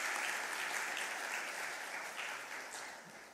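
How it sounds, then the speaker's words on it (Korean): An audience applauds steadily at a church scholarship award ceremony during a Sunday morning service, with continuous, moderately loud clapping that slowly fades toward the end. "들어갈 때까지 계속 박수해 주시고요"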